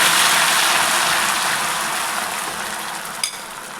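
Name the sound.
stirring semolina and milk mixture in a pan for halwa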